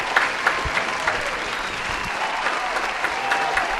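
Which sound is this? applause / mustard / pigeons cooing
applause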